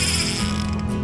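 Fishing reel drag clicking steadily as a spotted bass takes line, a dense, continuous rapid ratcheting up close with no talk over it.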